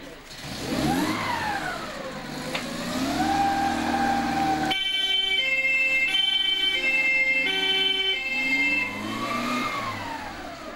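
A 1996 Swiss Army ambulance at Moudon sounds its siren as it departs, first a rising and falling wail, then a loud, steady two-tone hi-lo pattern over a running engine.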